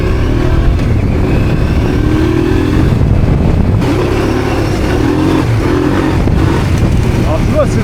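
A Honda Transalp 650 twin-cylinder motorcycle engine rumbles loudly and continuously off-road, with wind noise and a rider talking over it while riding.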